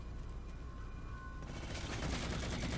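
Gunfire in the Halo 4 video game: a dense, sustained burst of shots that swells louder in the second half, with a faint tonal whine early on.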